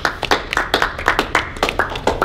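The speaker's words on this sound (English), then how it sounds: "let's give him a round of applause" A small group claps for a colleague during a team training session, giving a brisk round of applause with uneven, overlapping hand claps that keep a steady, lively rhythm throughout, close to the microphone and with no talking.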